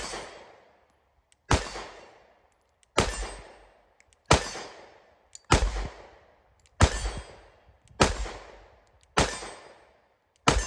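Pistol fitted with a Holosun EPS Carry red dot fires eight single shots at a slow, even pace, each a sharp loud crack with a short decaying tail.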